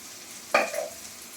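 A quick stir of fried onion, chilli and capsicum with cumin powder, turmeric and dried chilli powder in a pan gives one short scraping sizzle that fades fast into quiet.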